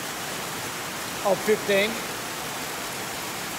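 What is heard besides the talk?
tropical downpour rain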